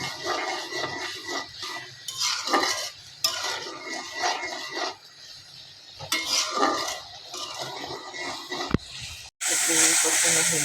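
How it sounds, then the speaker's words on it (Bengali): Dried fish with winter vegetables stir-fried in a pan, close scraping spatula strokes and soft sizzling in uneven bursts, a sharp clank near the end and louder hissing afterward. "এখন আমি একটু ভালোভাবে কষাই নেব"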